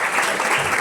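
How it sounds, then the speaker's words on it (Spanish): A brief burst of dense applause from an audience at a talk by a writer and journalist, steady and fairly loud for under a second. "Bueno, un aplauso."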